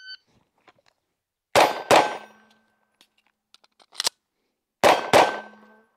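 Walther PDP F pistol firing at a range: four sharp, loud shots in two quick pairs with clear ringing decay, plus faint light clinks between them and no talk.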